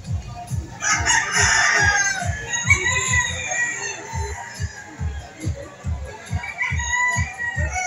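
Roosters crow at an open-air chicken market in Lipa City, Batangas, one long crow rising over the crowd while a rapid train of low clucks and thumps pulses underneath.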